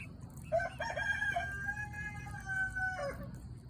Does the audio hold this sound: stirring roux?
no